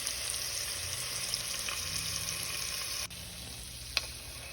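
Beef seasoned with salt, pepper and garlic powder is stirred in hot oil for a beef stew. A steady, close sizzle runs throughout, with a couple of faint utensil knocks and no talking.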